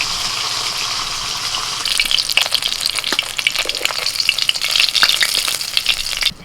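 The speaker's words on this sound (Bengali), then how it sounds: "এই মাছ ভাজা শেষ হলো ছবার ভেজেছি মোট পুটি মাছগুলো তিনবার ভেজেছি" Small puti fish from the Damodar river frying in oil in a pan, a loud continuous sizzle with crackling spatters that swells after the first two seconds and cuts off near the end, with no talking.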